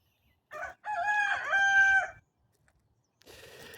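A chicken crows loudly and close, one drawn-out cock-a-doodle-doo after a short first note, with a cluck or the start of another call at the end.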